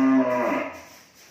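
A single cow at a cattle farm in Mỏ Cày Bắc district, Vietnam, lets out one close, loud moo that drops in pitch and fades within about a second.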